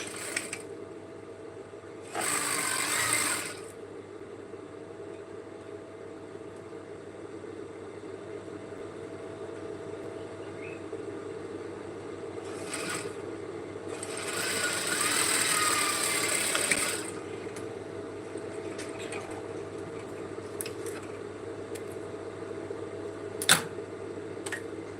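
A sewing machine stitches satin onto cloth for an elastic-puff A-line dress, in two separate whirring runs with a quiet hum and occasional clicks between them.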